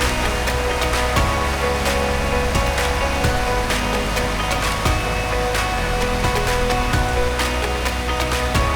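Broad, steady roar of rushing river water through the Little River Gorge in autumn, continuous and fairly loud with a few faint sharper splashes, no voices.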